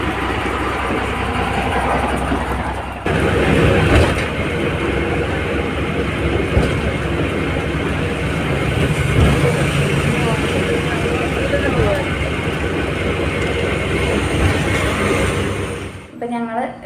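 Steady engine drone and road rumble inside a moving bus, loud and continuous with a few bumps and rattles, ending abruptly near the close; a voice speaks over the noise.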